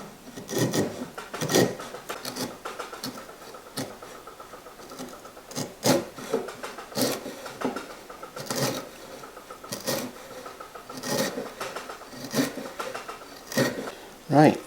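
Long wood strips peeled with a blade along the edge of a workbench tenon, giving close, irregular scraping and rasping bursts of varying length, one after another.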